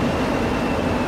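A steady, loud rumble of a new Azur train on the Montréal Metro running through a tunnel, continuous and close, with no voices.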